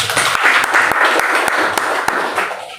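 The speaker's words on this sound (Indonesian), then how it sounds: "Berikan tepuk tangan" A church congregation in Jakarta applauds during a family worship service: steady, dense clapping from many hands with a few sharper claps standing out, carrying on for nearly three seconds before thinning at the end.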